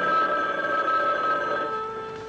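A telephone rings with a bright, steady electronic tone in a 1980s slasher-film TV commercial, a loud continuous ring lasting about two seconds with no talking.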